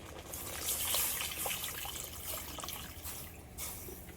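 Turmeric water pours into a cooking pot for a sour lentil dish, a soft, fairly faint gushing splash lasting a few seconds with no voices.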